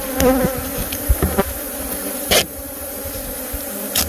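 Swarm of bees buzzing inside an RV, a dense continuous buzz close up with a few bumps and knocks over it, no talk.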